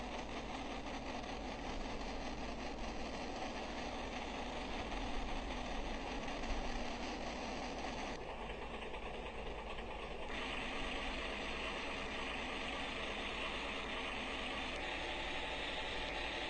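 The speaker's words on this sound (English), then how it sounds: "The engine has reached full RPM, 70 over here." A ship's engine runs up to full ahead at about 70 RPM, giving a steady, fairly faint mechanical drone with a faint ratcheting texture and no voices.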